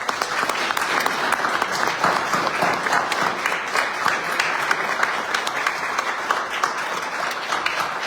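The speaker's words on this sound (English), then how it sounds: "let's give them another round of applause" Sustained, even applause from the audience at a village board meeting, many hands clapping loudly and continuously for the whole stretch.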